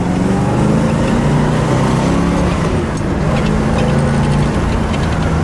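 A 1970 Oldsmobile Cutlass 442 W-30 convertible with a 4-speed driving along, its engine droning steadily and loudly from close by, mixed with wind and road noise and no speech.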